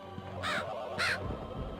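A crow caws twice in the MediEvil PS1 video game, two loud harsh calls about half a second apart, heard alone over a low game background.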